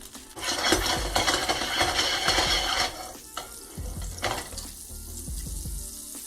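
Butter sizzles and spits in a hot pan before salmon goes in. The frying is loud and close, with irregular crackles and stirring scrapes, and it eases into a quieter simmering hiss. No one speaks.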